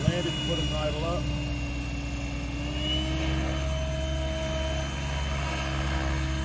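XL Power Nimbus 550 RC helicopter landing with idle up engaged: steady close electric motor and rotor hum with a sustained high whine and a brief sweep at the start, moderately loud, no talk.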